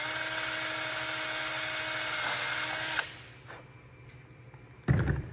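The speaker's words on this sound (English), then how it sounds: "So I took an 1/8 inch bit and just go through the top." An electric drill with an 1/8 inch bit bores through the plastic top of a water marker, whining steadily and loudly for about three seconds, then stopping, followed by a brief knock.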